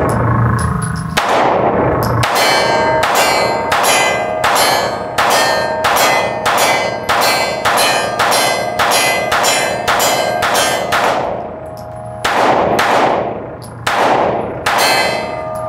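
Shots from a Sig Sauer P320 M18 pistol at a shooting range ring out in a rapid, even string, each with a sharp metallic clang, then a pause and a few more shots.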